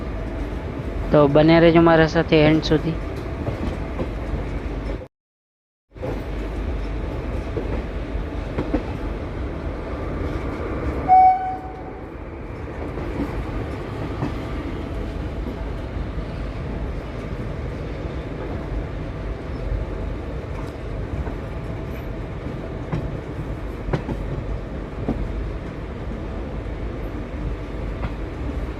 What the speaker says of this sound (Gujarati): માળિયા મિયાણા જંકશન પરથી આપણી ટ્રેનનો ડિપાર્ચર થઈ રહ્યો છે